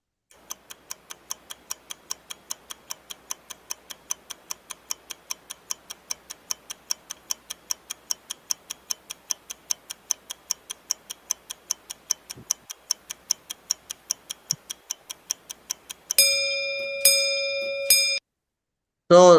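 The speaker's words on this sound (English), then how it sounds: "computer ji has rung the bell" A quiz timer ticks steadily, about three ticks a second, for roughly sixteen seconds, then a computer rings a bright bell in several ringing bursts followed by a short final chime.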